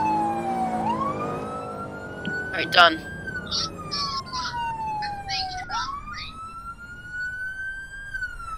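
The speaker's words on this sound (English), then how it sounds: "Damn it! I keep hitting the sirens." A video game fire truck's siren wails up and down continuously at close range in a Clover Fire Department game, while someone briefly speaks over it and clattery tapping noises mix in.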